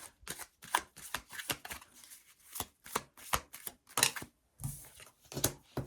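Quick papery flicks and snaps of tarot cards being shuffled and laid down, in uneven bursts with brief pauses, close and fairly soft.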